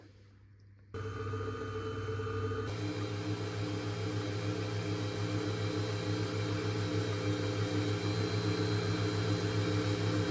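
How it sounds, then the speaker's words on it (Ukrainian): An electric mixer whips butter with erythritol, switching on after a moment of quiet and then running as a steady, loud motor whir that holds to the end with no voices. "Зараз будемо ставити збиватися масло з еритритолом"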